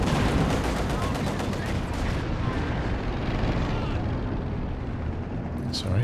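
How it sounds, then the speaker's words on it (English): Artillery shells firing and landing in the real-time strategy game Company of Heroes 2, a loud continuous barrage of booms and crackling blasts during a counter-battery exchange, with voices speaking over it. "Shells flying every which way."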